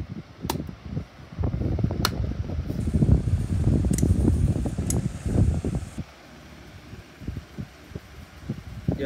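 Several 12-inch desk fans, a Dyson among them, run together on medium speed, giving a steady broadband whoosh of moving air with brief clicks and knocks through the middle before the rushing sound eases slightly toward the end.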